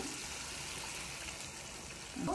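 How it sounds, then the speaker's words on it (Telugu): Hot water pouring into a simmering chicken curry gravy, producing a steady rushing trickle that holds even throughout, with a slight swell at the end. "నేను కొంచెం గ్రేవీ లాగా చేసుకున్నాను, కొంచెం హాట్ వాటర్ వేసుకుంటున్నా."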